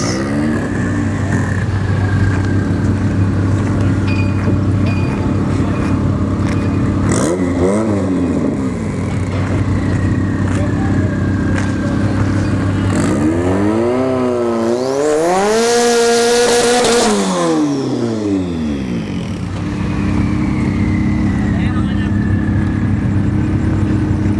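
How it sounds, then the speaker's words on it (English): A turbocharged Honda CRX drag car with an F22 or F23 engine at a drag strip test-and-tune session: its engine revs and roars loudly, swelling and sweeping in pitch midway, over a steady background drone. "we got the single jingle turbo CRX. It's got like an F22 or F23 turbo"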